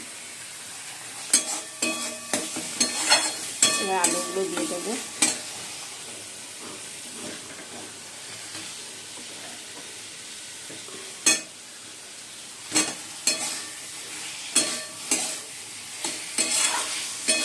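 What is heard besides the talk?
spices being sautéed and stirred in pan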